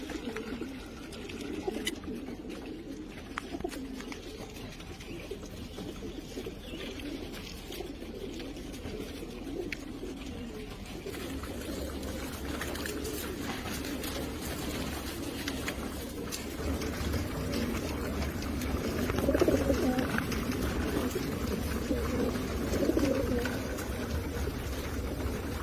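Racing pigeons coo in a loft, low soft throaty calls repeating through a murmuring background of birds, growing a bit fuller toward the end, with no voices.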